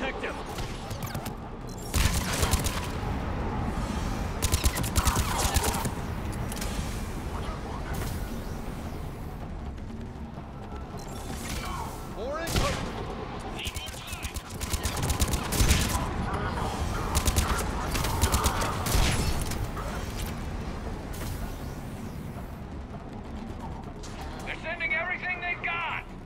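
Gunfire in a Mass Effect 3 battle, scattered sharp shots and bursts spread across a long stretch of combat, mixed with impacts and game music, with people talking over it.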